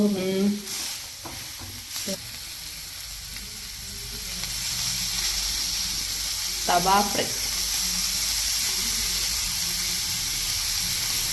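Kaduva fish sizzles as it deep-fries in hot coconut oil, a continuous crackling hiss close by, with brief bursts of talk over the frying.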